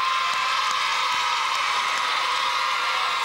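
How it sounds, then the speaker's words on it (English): A studio audience at a 1997 game show applauds, a broad, even wash of clapping and faint crowd noise that holds steady for a few seconds. "Give him a round of applause."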